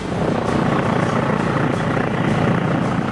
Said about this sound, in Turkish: taarruz, taktik, keşif helikopteri T-129'un prototipi P-6 bir kez daha havalandı